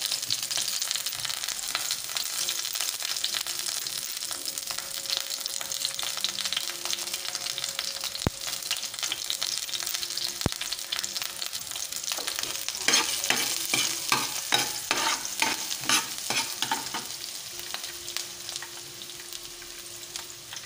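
Onions frying in a pan for adobong batotoy give a steady, bright sizzle throughout, with repeated scraping and stirring strokes of a utensil in the pan and no talking.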